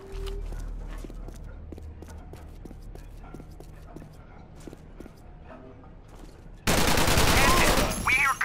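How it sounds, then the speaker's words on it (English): Rapid sharp video game gunshot cracks in Terrorist Takedown 2: US Navy Seals, some distant and some closer, pop in irregular bursts, followed by a sudden loud rush of noise near the end. "We hear gunshots, you alright?"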